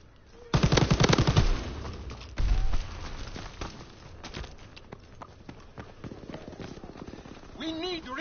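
Fast bursts of MG42 machine gun fire in a Call of Duty WW2 multiplayer match, with two loud, dense rattling volleys followed by scattered distant shots, and someone talking near the end.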